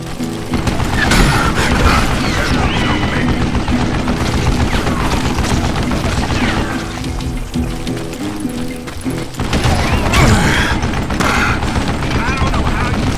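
Gunfire crackles through a cowboy Western audio drama, with dense overlapping shots and booming bursts that continue almost nonstop amid voices and the noise of the scene.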